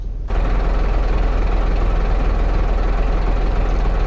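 A Mercedes eco truck engine settles into a steady tick-over idle, a low continuous rumble with a faint rhythmic pulse, close and loud with no talk over it.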